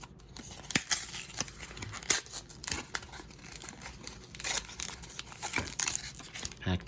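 A foil Pokémon Sword & Shield booster pack is torn open, with sharp crinkles and ripping bursts and then loose rustling and shuffling of cards, close and intermittent.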